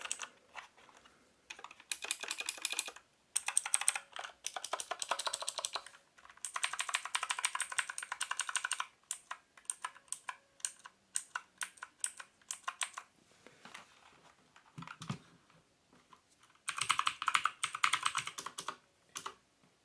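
Mechanical switches on an EasySMX gaming keyboard clatter under fast typing in bursts of rapid crisp clicks, close and clear, with short pauses between runs.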